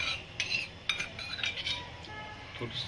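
A spoon stirs and scrapes through thick kulith (horse gram) shengole batter in a metal pot, giving soft, close, irregular clinks and scrapes at low volume.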